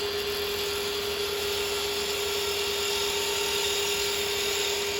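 A woodturning tool cuts a live-edge Laburnum bowl spinning on a lathe, producing a steady, continuous high whine with a sustained tonal hum, even and unbroken throughout.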